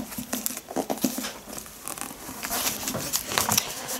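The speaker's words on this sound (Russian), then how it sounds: "Я тут листаю, а ты-то не видишь, да?" Paper pages of a hardcover book on Slavic culture flipped by hand, a run of quick, close rustling swishes and soft crinkles in irregular bursts with no talking.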